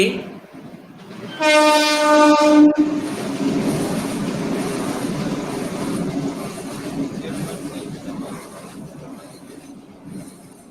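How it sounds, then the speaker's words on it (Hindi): A train passes on a railway line near a house: a loud horn blast of about a second, then a long rumbling roar of wheels and cars slowly fading, with faint talk underneath. "मेरे घर के पास ट्रेन लाइन है। अच्छा। ट्रेन की आवाज गड़बड़ कर जाती बीच में कई बार।"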